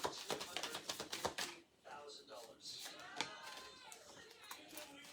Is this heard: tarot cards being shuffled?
yes